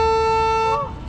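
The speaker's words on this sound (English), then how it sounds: "we're gonna honk the horn and announce our approach" A riverboat's horn gives one loud, sustained blast lasting under a second, steady and tonal, then cuts off abruptly, leaving quiet background noise.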